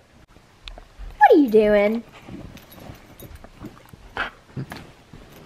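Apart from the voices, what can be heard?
dog whimpering and barking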